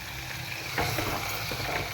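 Chicken sizzling with green chillies in a hot pan, a steady close frying hiss with a brief stir partway through, no voices.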